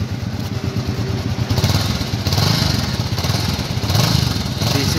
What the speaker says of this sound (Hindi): हमारे वाले की डुक डुक सुन लो थोड़ी सी, हमारा वाला वही है एज यूजुअल, कंपनी फिटेड, थोड़ा थम्पी साउंड